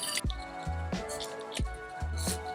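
Water squished through a sudsy kitchen sponge as it is washed, four soft, wet squelching pulses at a steady rhythm, close and quiet.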